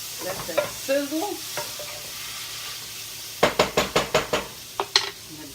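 Bavarian kraut crullers frying in a pan with a splash of broth, giving a steady close sizzle broken by a run of sharp clicking knocks and scrapes of a utensil against the pan.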